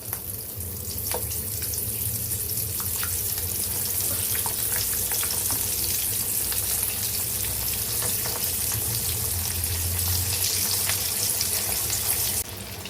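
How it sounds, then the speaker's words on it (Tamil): Cauliflower and sweet potato kola balls dropped one by one into hot oil, a loud, steady crackling sizzle that fills the whole stretch with dense popping. "நம்ம எண்ணெயில் போட்டு பொரிச்சு எடுக்க வேண்டியது தான்"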